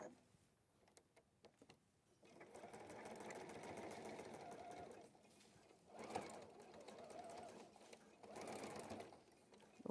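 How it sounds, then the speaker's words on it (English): A sewing machine stitches fabric in a couple of long, steady runs with a brief stop between them, fairly quiet and close, with no talk over it. "And then I'm just going to sew that together."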